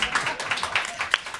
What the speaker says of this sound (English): Yeah, you could applaud Aldon.